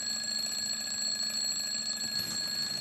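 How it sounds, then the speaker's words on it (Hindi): A bedside alarm clock rings continuously with a steady, high electronic tone, constant in level, close by and with no other sounds. "प्लीज अलार्म बंद कर दो ना"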